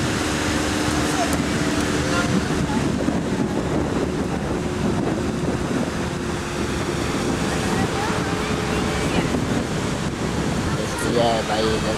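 Ocean waves at Long Beach roll and wash in a steady broad rush mixed with wind buffeting the microphone, while people talk faintly underneath.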